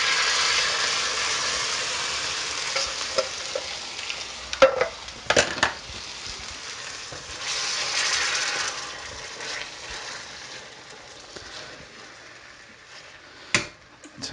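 Tinned chopped tomatoes sizzle steadily in a pan with tapas meatballs, a broad frying hiss. A few sharp utensil knocks and scrapes break in now and then as the mixture is stirred.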